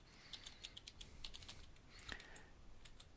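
Search terms typed on a computer keyboard: a quiet, close run of light, uneven key clicks with a few louder strokes, heard alone against a faint background hiss.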